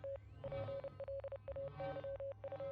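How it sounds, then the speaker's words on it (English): Morse code beeping in a video game, a steady electronic tone pulsing in short and long bursts with a regular stop-start rhythm over a low background hum, fairly faint. "Oh, hey, there's that, Morse code again."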